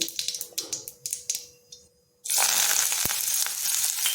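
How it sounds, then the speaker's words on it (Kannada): Mustard seeds popping in hot oil with sharp scattered crackles, then onion and curry leaves added to the pan, bursting into a loud, dense, continuous sizzle heard up close. "ಸ್ವಲ್ಪ ಸಾಸಿವೆ ಹಾಕೋಣ ಅದು ಮೇಲೆ ಈರುಳ್ಳಿನ ಸ್ವಲ್ಪ ಮೀಡಿಯಮ್ ಆಗಿ ಹೆಚ್ಚಿಟ್ಕೊಂಡಿದ್ದೀನಿ ಅದು ಮತ್ತು ಕರಿಬೇವನ್ನು ಹಾಕ್ಕೊಳ್ತಾ ಇದ್ದೀನಿ"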